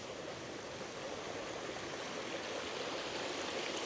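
A stream flows steadily at Three Shires Head, by the packhorse bridge and waterfalls, making a continuous close rushing wash of water that stays even throughout with no other sounds.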